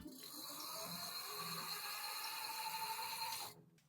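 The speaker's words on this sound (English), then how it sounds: "This is the sound of the new motor." The new motor of an XPedition 2.0 electric bike runs with a faint, steady mechanical whir and whine for a few seconds, then cuts off; no voices.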